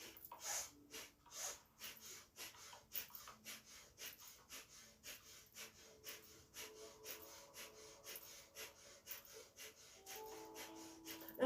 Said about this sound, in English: If you exhale out, inhale back in.